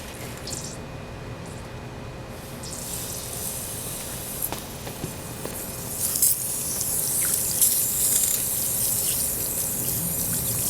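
A garden hose sprays water to rinse off a coconut outdoors, a steady hissing splash that thickens and grows louder midway, continuing without speech.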